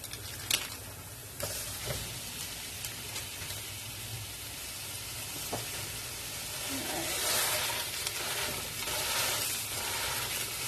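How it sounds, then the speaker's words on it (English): Ground beef sizzling and frying in a pan with onions, a steady crackling hiss with occasional stirring scrapes, close by and loud. "I'm just going to go ahead and add in the ground beef now."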